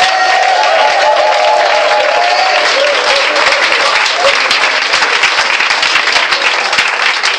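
Church congregation applauding and cheering for Jesus at a lively worship service, a dense, steady roar of clapping and shouts filling the whole stretch, close and loud, with voices mixed in.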